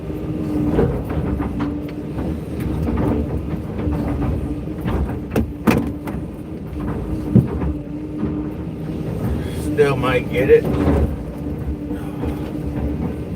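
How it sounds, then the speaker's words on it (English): A train passing near railroad tracks at a demolition site, heard as a steady low rumble with rattling and wind buffeting the microphone, fairly close and continuous, with a brief spoken remark early on. "There's that train right,"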